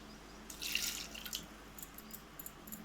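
Half a glass of water splashes onto jaggery in a bowl in a short burst, then a few scattered drips and trickles follow, fairly quiet against a faint background hum.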